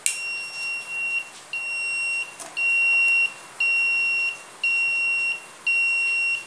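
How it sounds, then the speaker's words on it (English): A 555 timer buzzer circuit gives six evenly spaced, shrill electronic beeps, each lasting close to a second with short gaps between, sounding close and clear over faint background hiss. "this is our new circuit, 555 timer buzzer circuit"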